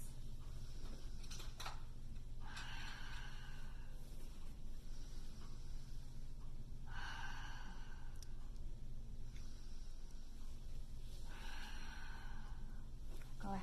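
Deep breaths taken during a kids' yoga class for ages three to six, three long airy exhales spread evenly over quiet room tone, each close and soft.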